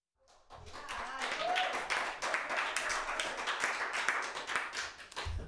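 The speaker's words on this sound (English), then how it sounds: "Thunderous applause for that." An audience at a live variety show bursts into applause after a comic song. Brisk, dense clapping starts abruptly, holds steady for about five seconds, then starts to thin.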